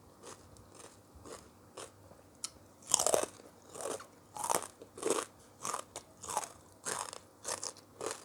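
Crispy fried pork crackling being bitten and chewed close to the mic, with loud crunches coming in a steady run of repeated chews, each one crackly and dry, with no other sound.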